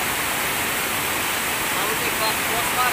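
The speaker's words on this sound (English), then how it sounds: "This is Borjhora Waterfall." Borjhora Waterfall in Bongaigaon gives a steady, dense rush of falling water, a loud, even broadband roar that holds unbroken from start to finish with no voices over it.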